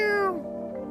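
A cat in the video game No, I'm Not a Human lets out a single clear meow close by, starting high and sliding down in pitch before fading, with nothing else heard.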